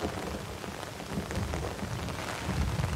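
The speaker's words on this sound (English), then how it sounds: "It's really rainy." Heavy rain falls steadily in a wildlife area where buffalo and hippos graze, a dense continuous patter close around with a low rumble underneath.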